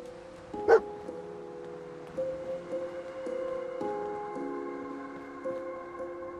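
A dog barks once, sharp and brief, in the video game Fallout 4, followed by sustained, tonal game music with no talking.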